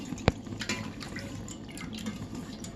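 Water drips and splashes while spinach leaves are washed for spinach pakoda, with one sharp near drop early on, then softer scattered trickles against a quiet kitchen background.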